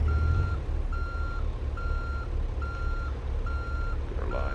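A truck backing up in American Truck Simulator sounds its reversing alarm: six evenly spaced electronic beeps repeat steadily over a deep, constant engine rumble.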